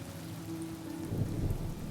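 Steady rain falls with a low rumble of thunder building in the Honkai: Star Rail game, a short, moderately quiet stretch of storm ambience with no talking.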